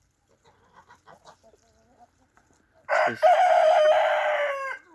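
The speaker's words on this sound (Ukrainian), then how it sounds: "Кури сюди поприходили вже." Farmyard chickens cluck softly in scattered short bursts, then a rooster lets out one loud, close crow lasting nearly two seconds, with a brief spoken word between.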